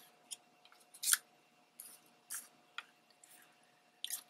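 Scissors snipping the corner off a paper craft tag: several short, crisp cuts spaced irregularly over a few seconds, close and fairly quiet in a calm room.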